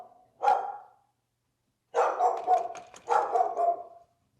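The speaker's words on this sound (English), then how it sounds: "we don't care about reinforcing the barking" A dog during an aggressive-behaviour training session barks loudly and close by: one sharp bark, a pause, then two quick bursts of repeated barking.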